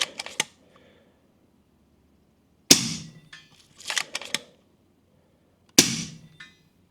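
An FX Leopard air rifle fires three separate sharp, close shots a few seconds apart, each a crisp crack with a short mechanical clatter, against an otherwise quiet background.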